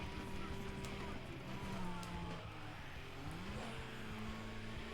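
A stock Chevrolet Cobalt in the Need for Speed Most Wanted video game, its engine droning and shifting pitch as it accelerates and eases through corners, steady and continuous with game background sound.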